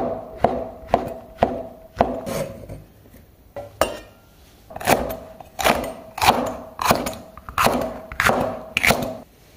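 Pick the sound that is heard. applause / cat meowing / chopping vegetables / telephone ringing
chopping vegetables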